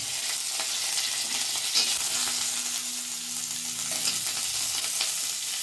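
Chopped onion with a whole dried red chilli and curry leaves sizzle steadily in hot oil, a continuous close frying hiss with occasional stirring clatter and no talk.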